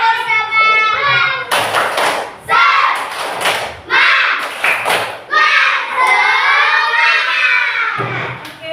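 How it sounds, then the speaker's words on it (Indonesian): Grade four schoolchildren in a classroom perform the tepuk semangat chant, rhythmic bursts of group clapping with shouted chanting voices between them, loud and close, ending in a sustained cheer. "Tepuk semangat."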